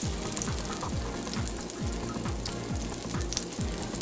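A full batch of butter melting in a pan for mac and cheese sizzles and crackles steadily and closely, while a repeating low tonal hum drones throughout beneath it and no one speaks.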